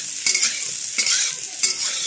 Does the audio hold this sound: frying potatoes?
yes